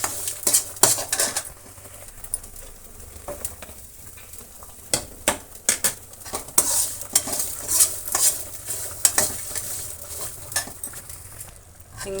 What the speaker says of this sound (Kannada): ಈಗ ಇಷ್ಟನ್ನು ನಾವು ಫ್ರೈ ಮಾಡ್ಕೊಳ್ಳೋಣ.